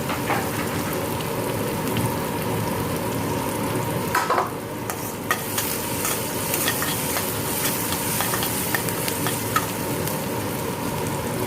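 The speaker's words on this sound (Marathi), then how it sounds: "बटाटा परतून घ्यायचा" Potatoes sautéing in a pan with cauliflower, a dense, even sizzle like steady rain, with occasional utensil scrapes and clicks.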